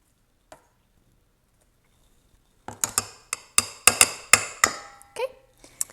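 Tempura batter stirred in a bowl, an isolated click and then a run of quick, sharp utensil taps and clacks against the bowl, close and fairly loud, gradually slowing and fading.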